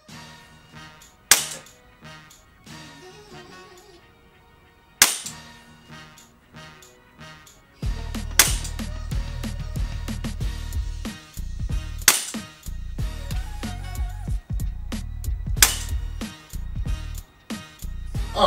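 A G&G GTP9 airsoft pistol fired at a target, sharp close snapping shots, a few spaced single cracks followed by a faster rapid-fire string, over a continuous background bed of music.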